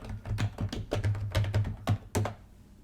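Quick bursts of keystrokes on a computer keyboard, close and fairly crisp, clattering in short uneven runs with brief pauses between, no one speaking.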